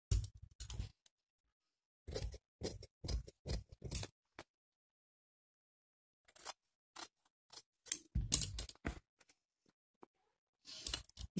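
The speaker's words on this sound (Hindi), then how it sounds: "इस पट्टी को हम इसी तरह से काट लेंगे" Scissors snip through a strip of fabric for a neck design in several quick clusters of short crisp cuts separated by silent pauses, close and clear with no talk over them.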